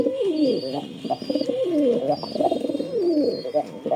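Pigeons kept in a loft coo steadily, several birds overlapping in a dense, close, continuous warbling murmur, with faint high chirps above.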